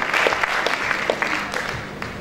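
Live audience applause at a Lagos stage event, a steady wash of clapping that stays fairly loud and even throughout.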